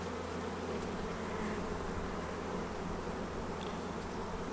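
Honey bees buzz steadily at an open hive during a comb change, a dense close swarm drone filling the whole stretch with no talk.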